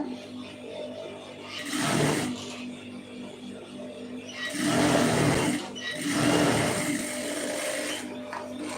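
Sewing machine stitching a folded blouse hem, three separate whirring bursts of stitching with quieter pauses between them, close and alone.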